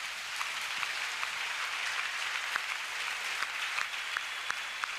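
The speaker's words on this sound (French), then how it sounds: "Acclame pour Jésus." A congregation at a national church convention in Togo applauding for Jesus, a steady, dense wash of clapping from many hands at a moderate distance, with no voices rising above it.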